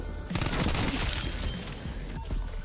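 Dense gunfire in the video game Call of Duty Cold War, including an M16, as a loud continuous crackling barrage with sharp bursts throughout.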